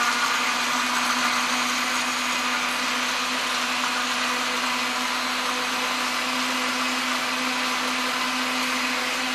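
Electric blender whirring as it mixes a red rose water and strawberry drink, a loud steady motor drone running unbroken throughout with no voices.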